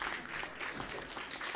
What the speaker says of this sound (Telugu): గట్టిగా వారికి చప్పట్లు కొడదాం.